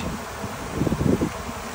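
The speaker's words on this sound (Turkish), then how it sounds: "Ana arı ağlaması bu." Queen bee piping inside a spring beehive during a colony split, a low buzzing hum of the colony with a brief louder pulsing burst near the middle.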